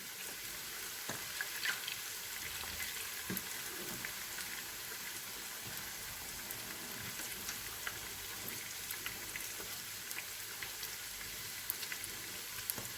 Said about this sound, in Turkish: Bunları da böyle güzelce kızartacağız çıtır çıtır